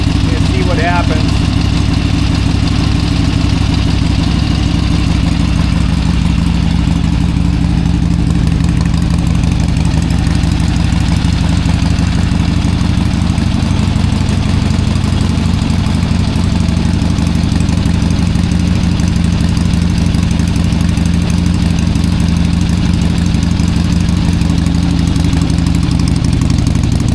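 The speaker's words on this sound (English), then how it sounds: "So I'm gonna let the motor get good and hot and see what happens." A Harley-Davidson Ironhead XLCH motorcycle engine, cold after a month unused and seeping oil at the rear rocker box, idles to warm up with a steady, loud, close low throb that holds unbroken throughout.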